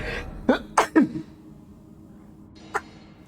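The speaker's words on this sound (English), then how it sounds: "I think I gotta sneeze" A person sneezes in a quick burst of three sharp, close sneezes, followed after a short pause by a single smaller sneeze or sniff.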